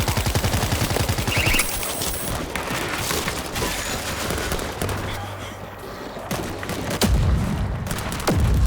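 Rapid bursts of gunfire crackle through a loud, busy World War Z Aftermath game soundscape, with heavier booms near the end and voices talking over the action.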